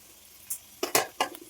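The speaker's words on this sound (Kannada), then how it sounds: "ಹಾಕೊಂಡು ಫ್ರೈ ಮಾಡ್ಕೊಳ್ಳಿ." Mint leaves frying in a pan give a faint sizzle, broken by a few quick scraping stirs that clatter against the metal near the end.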